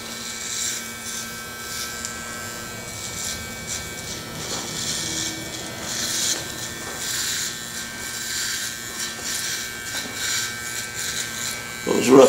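An electric hair clipper buzzes steadily close by while cutting a flat top haircut, its drone rising and falling slightly as it moves through the hair, with people talking over it throughout.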